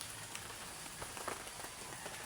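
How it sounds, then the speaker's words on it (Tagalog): Steady rain at six in the morning patters on an umbrella overhead, a dense, even hiss with scattered louder drops, heard alone without voices. "Tayo po ay nakapayong dahil umuulan po dito ay wala pong tigil ang ulan"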